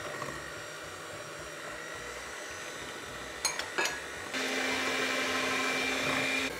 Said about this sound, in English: I'll start blending them with an electric whisk and I'll add some sugar